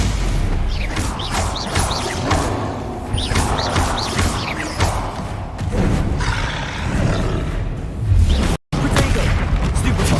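Fire spells burst during a Hogwarts Legacy battle: loud booming whooshes and crashing impacts come in quick succession over a constant rumbling roar, with brief shouted voices between.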